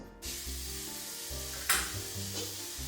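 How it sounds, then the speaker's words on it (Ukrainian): Meat searing in a well-heated pot, a steady crackling sizzle with a sharper burst of spitting midway, close and alone without talk. "Каструля добре розігрілась і я викладаю м'ясо"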